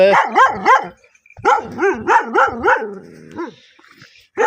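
Hunting dogs barking in a Punjab village: a burst of loud, close barks, a brief pause, then another rapid run of barks fading into whimpers and a final yip.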